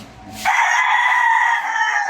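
A rooster at the GMN Game Farm gives a single long, loud, close crow that rings out steadily for over a second and a half after a brief low rumble.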